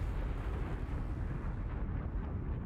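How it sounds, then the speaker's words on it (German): A big explosion in the World War I video game Valiant Hearts rumbles as a dense, sustained roar with heavy low-end boom, filling the scene loudly and evenly before thinning slightly at the top. "Das gab eine richtige Explosion."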